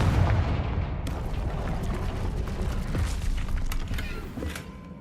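A Confringo blasting spell erupts in Hogwarts Legacy, a loud booming explosion up front that decays into rumbling debris, creaks and scattered crackles fading over several seconds.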